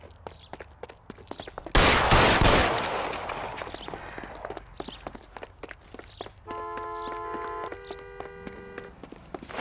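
Gunfire in the video game L.A. Noire: one loud burst of shots cuts through a scene of running footsteps, followed by quieter scuffling steps and a short stretch of steady tonal game sound.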